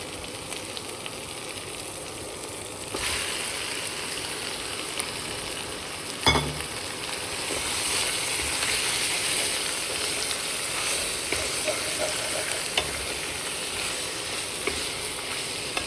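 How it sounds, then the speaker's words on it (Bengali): Chicken sizzling and frying in a hot pan, a steady hiss with occasional scrapes and clatter from stirring, close and continuous. "এটাকে ভালো করে একটু ভেজে নেব হয়ে গেছে এবার আমি চিকেনটাকে অ্যাড করবো"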